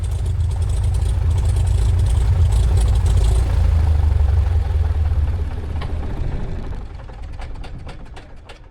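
A loud, low piston engine of a Van's RV-7 homebuilt aircraft drones steadily, then winds down and sputters to a stop after landing, leaving faint clicks and rattles afterward.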